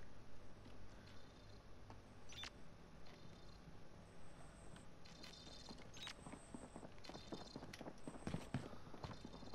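Footsteps sound in a multiplayer shooter trios match, a quiet run of repeated thudding steps with a steady rhythm that becomes denser and a little louder toward the end.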